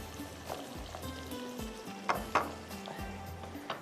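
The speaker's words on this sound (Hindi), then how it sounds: "ये देखिए, इसको मैं थोड़ा सा प्याज को ब्राउन कर लूँ।" Onions browning in a pan, a gentle sizzle beneath clinks and scrapes of a utensil stirring, with a few sharper knocks against the pan, close and fairly quiet.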